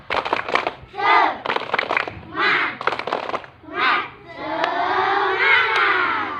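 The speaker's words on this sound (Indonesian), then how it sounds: "Coba kita melakukan tepuk semangat dulu untuk supaya semangat." Schoolchildren in a primary classroom perform the tepuk semangat clap chant, shouting rhythmic chanted phrases in bursts with clapping between them, ending in a longer sustained group shout.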